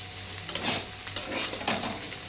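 Bitter gourd chachchari cooking in a pan, a close sizzle and fry with several quick stirring scrapes from a spatula.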